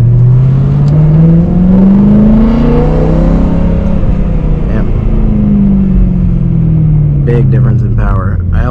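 BMW M3 engine with an Akrapovic exhaust and a plenum air intake, a loud close drone rising and falling in pitch as it revs, with a voice talking near the end.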